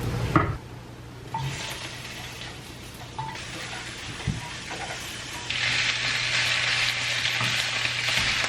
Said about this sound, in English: I just melted some butter in the pan and letting that kind of heat up.